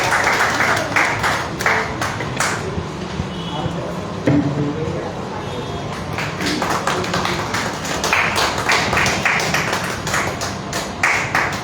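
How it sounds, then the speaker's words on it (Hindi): At a Hindi poetry gathering in Delhi, audience clapping runs throughout, sometimes uneven and tapping, with bursts of louder applause and speech mixed in. "जोरदार तालियां एक बार सम्मान के लिए।"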